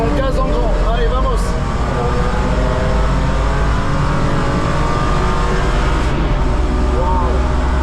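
A rented BMW accelerates at full throttle on the Nürburgring, its engine rising in pitch through several revs inside the cabin, while people talk over the loud, steady engine roar.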